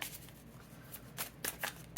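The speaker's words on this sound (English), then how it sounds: "I'm very clumsy in my shuffling today." Tarot cards are shuffled in short, uneven bursts of riffling and sliding, close and crisp, with a few louder flicks toward the end and no voice over them.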